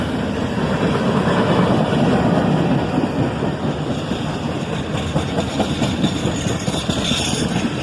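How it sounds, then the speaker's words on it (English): A southbound manifest freight led by a single ES-44 ACH locomotive slows to head into a siding, giving a steady, close rumble of engine and rolling cars with faint wheel clatter and no voices. "A single ES-44 ACH leads this southbound manifest train, slowing down to head into the siding."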